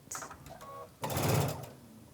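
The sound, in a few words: sewing machine stitching a pillow seam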